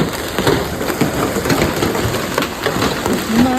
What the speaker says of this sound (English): The hail in Madrid this afternoon is quite scary.